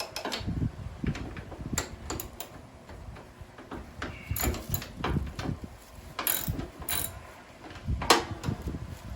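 A ratchet wrench loosens the oil drain plug on a lawn mower, giving bursts of close, irregular clicking and metallic ticks between quieter handling noises, with no talking.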